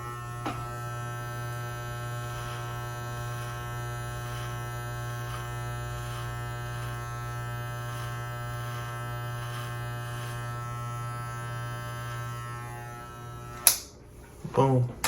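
Electric hair clippers buzz steadily and close up for about thirteen seconds while cutting a taper, with a low constant hum and faint pulsing, then cut off into brief clatter and handling noise.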